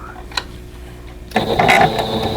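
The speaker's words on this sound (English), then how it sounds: "I'm going to go ahead and sew right on that line" A sewing machine stitches a vintage lily quilt block along a marked line at a 2.0 stitch length with 50 weight thread, starting suddenly after a quiet moment as a loud, close, steady whirring run with no talking.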